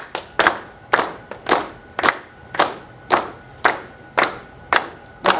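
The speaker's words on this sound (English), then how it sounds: "So everybody just clap what Alex is playing." A group at a jazz education workshop claps together on steady quarter notes, about ten sharp, evenly spaced claps ringing clearly with no talk over them.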